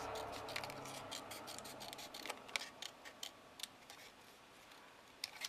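Scissors fussy-cut paper for a craft tag, producing a string of quiet, irregular snips and clicks close by against a faint background hiss.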